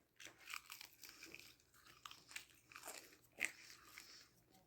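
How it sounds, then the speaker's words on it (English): Crisp crunching bites and chewing on crunchy garlic bread, close to the mic, several irregular crunches over a few seconds with no talking. "Got crunchy garlic bread."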